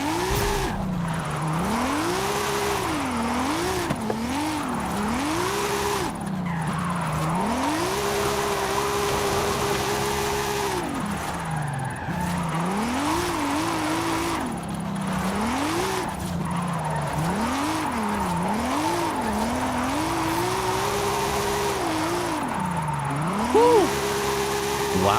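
A Mercedes-Benz 300 SL drifting in Forza Horizon 5, its engine repeatedly revving up and dropping in rising and falling sweeps with tire squeal, loud and continuous throughout while someone talks over it.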